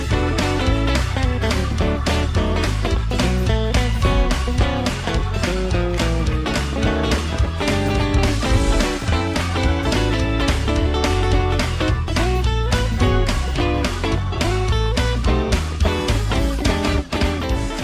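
Gospel quartet-style electric guitar plays continuously, with dense rhythmic chords and licks in a steady groove. The full, loud band texture has no pauses and no talking.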